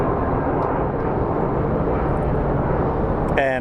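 An airliner at Phoenix Sky Harbor airport rumbles in a broad, steady roar throughout, with a short burst of voice breaking in at the very end.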